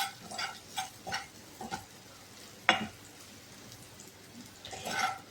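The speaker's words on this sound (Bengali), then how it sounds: "আমার গাজরটা ভাজা হয়ে এসছে, দেখতেই পাচ্ছ।" Grated carrots fry with salt over raised gas in a pan for jora chira, under soft sizzling and intermittent scraping stirs. A sharp clack lands midway, and the stirring strokes come in faint, irregular bursts.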